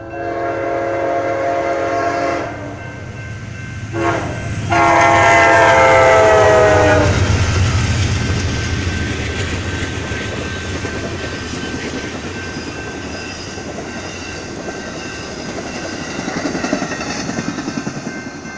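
A BNSF train sounds its horn in several loud blasts, then rumbles past with rhythmic clattering of wheels that slowly fades, with a brief surge near the end.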